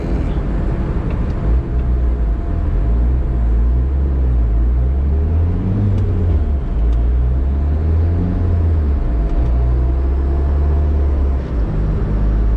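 A car engine runs on a dyno, giving a continuous loud, low rumble whose pitch drifts slightly up and down as the revs waver.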